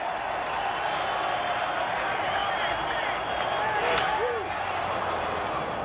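A baseball stadium crowd at a major-league game roars and applauds in a steady, loud wash of cheering that carries on throughout, with a broadcaster's voice talking over it.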